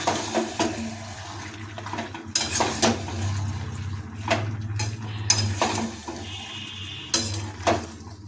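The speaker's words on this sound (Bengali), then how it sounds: "এবার এটাকে এবার খুন্তিতে ভালোভাবে নাড়িয়ে নেব" A spatula scrapes and clanks as mixed vegetables with curd are stirred in a pan, irregular metallic knocks over a soft low sizzle, close and fairly loud with no talking.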